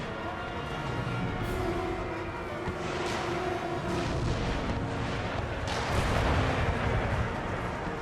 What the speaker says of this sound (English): Cannon fire and an artillery barrage.